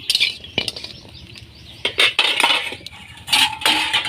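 A metal utensil scrapes and clinks against a pan while lifting fried lentil dumplings out, giving sharp, irregular knocks and taps at close range with no talk.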